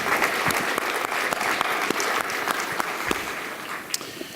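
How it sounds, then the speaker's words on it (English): A conference audience at a health policy forum applauds panelists coming to the stage, steady clapping with sharp individual claps standing out throughout. "Let's give them a round of applause and have them come to the stage."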